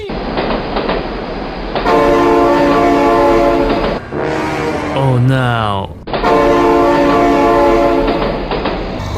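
A train in the BeamNG video game sounds its horn in long, loud blasts while the train rumbles past close by, with a brief gap between blasts and excited shouting over it.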